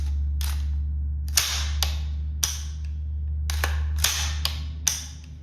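An AR rifle fitted with a Splitfire rapid safety gives a series of sharp metallic clicks and snaps as the bolt drops and the trigger is held, with about eight distinct crisp hits over a steady low hum.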